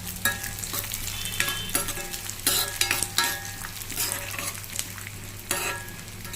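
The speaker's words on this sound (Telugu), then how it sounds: "చూడండి, నూనె కాగింది. కందిపప్పు వేస్తున్నాం. కొంచెం ఎర్రగా ఫ్రై చేసుకోవాలి." Toor dal frying in hot oil, a steady crackling sizzle with scraping stirs and clicks of a spoon against the pan, heard up close with a low hum underneath and no voices.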